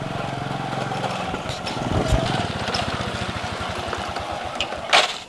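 A motorcycle engine runs close by with a steady low chugging idle and slight revving, lasting about five seconds, ending with a brief sharp noise near the finish.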